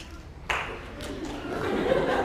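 A lecture-hall audience bursts into clapping after a quiet moment, the broad patter starting suddenly and swelling into steady applause-like noise that holds until the end.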